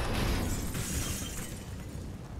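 Grenades blowing up on a bomb site on the Overpass map in a CS:GO pro match, heard as a dense, continuous wall of loud, rumbling, crackling blast noise with no clear gaps.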